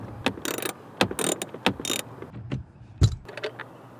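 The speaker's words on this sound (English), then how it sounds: "this is where we're going to use our 10mm socket" Ratchet with a 10mm socket backing out a bolt on a Toyota Tacoma: quick bursts of close clicking ratchet action with brief pauses and a clunk near the end.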